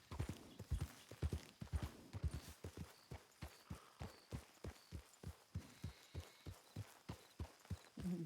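A horse trots at a steady, even rhythm in a video game roleplay, each close hoof clop crisp and distinct against a quiet background, with a faint whinny and a brief voice early on.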